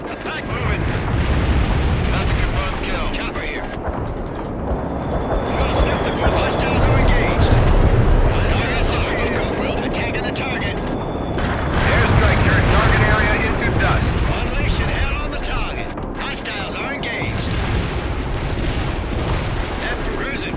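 Cluster bomb air strike in the World in Conflict game, dense rolling blasts and rumbling explosions rising and falling for about twenty seconds, loud and continuous with aircraft noise, a voice speaking over parts of it.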